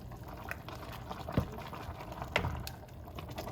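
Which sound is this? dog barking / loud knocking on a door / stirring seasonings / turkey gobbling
stirring seasonings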